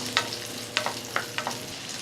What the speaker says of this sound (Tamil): சேர்த்துட்டு இதை நல்லா வதக்கி விட்டுக்கலாம்.